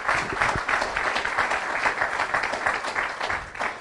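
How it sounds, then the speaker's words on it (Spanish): A church congregation applauds during a sermon, with dense, steady clapping from many hands throughout. "Give the strong applause to the Lord."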